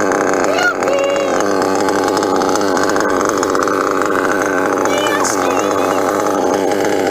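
A modified REDS R5R nitro engine in an RC car revs loud and close with a high, buzzing whine that rises and falls, while a voice talks underneath.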